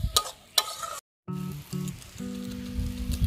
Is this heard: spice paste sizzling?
yes